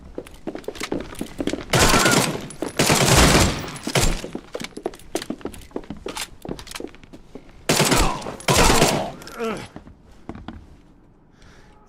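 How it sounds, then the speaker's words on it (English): Tommy gun fire in The Sinking City arrives in several loud sustained bursts, each a second or so long, separated by quieter stretches of scattered clicks and footsteps, close and forceful. "Tommy gun."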